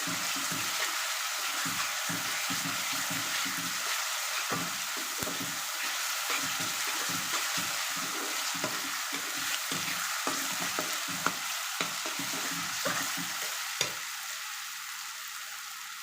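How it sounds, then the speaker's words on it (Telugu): Mutton head curry fries loudly in a pan, the constant sizzle punctuated by rapid, irregular scrapes and knocks of a spatula stirring the meat, with no voices. "పచ్చివాసన పోయేంత వరకు చక్కగా ఫ్రై చేసేసుకోవాలి"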